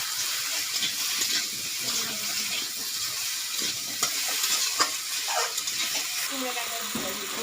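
Cut okra frying in a pan while being stirred, giving a steady close sizzle broken by repeated scraping and spatula clatter throughout.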